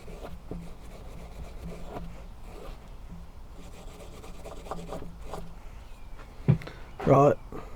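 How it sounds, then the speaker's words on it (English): PVC knife scales are sanded by hand with sandpaper, a steady soft scratchy rubbing in repeated strokes, close, with a couple of louder knocks and rustles near the end. "So I'll give it a bit of a sand by hand"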